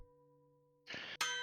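A bell tower bell rings out after a sustained tone, with two sharp metallic clangs close together near the end, loud and ringing bright.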